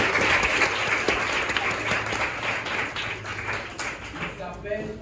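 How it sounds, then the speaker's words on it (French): Audience applause welcoming the provincial minister of primary, secondary and technical education at an official launch event, a dense steady clapping that fills the clip and slowly thins toward the end. "Acclamez-le."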